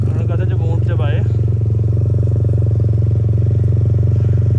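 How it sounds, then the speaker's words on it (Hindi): A motorcycle engine idles nearby on an off-road camping trip in Pakistan, a loud steady low throb that runs unchanged throughout, with a voice talking briefly over it at the start. "बाइक बंद कर दूँ मैं पुन्नू भाई"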